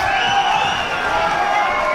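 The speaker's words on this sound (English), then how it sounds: "Crowd like it." Crowd noise at a professional boxing bout, a steady broad roar of spectators cheering throughout, loud and continuous with no clear pauses.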